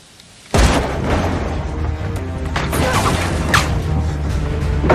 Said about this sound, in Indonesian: Mayer harus tewas di tempat setelah Yash menembaknya di bagian vital.